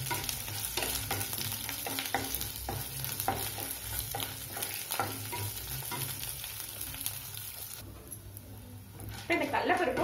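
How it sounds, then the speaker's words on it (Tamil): Chana dal and dried red chillies fry in hot oil for a tomato chutney, giving a steady crackling sizzle with stirring scrapes that runs nearly throughout, briefly dipping near the end. "இந்த கல்லப்பருப்பு காஞ்ச மிளகாவும் நல்லா வறுபட்டாச்சுங்க"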